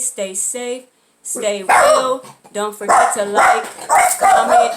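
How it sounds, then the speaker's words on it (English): A household dog barks in short bursts close to the microphone during a makeup palette tutorial, the barks mixed in with a person talking throughout. "And sorry about my dog, you guys."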